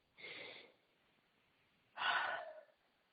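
Someone blows their nose in two short, breathy bursts about two seconds apart, heard close up and quietly against an otherwise silent background, with the second blast stronger than the first.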